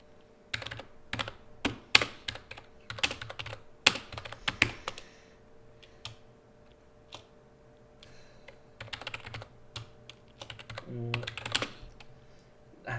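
Computer keyboard typing comes in uneven bursts of sharp clicks, some clustered and some isolated, fairly close against a low steady hum, with the occasional pause.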